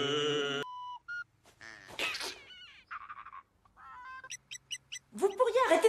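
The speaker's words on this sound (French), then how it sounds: "Vous pourriez arrêter de siffloter deux secondes" A man whistles a tune in short broken phrases with pauses, some high warbling notes, close and fairly soft, followed by other brief vocal sounds.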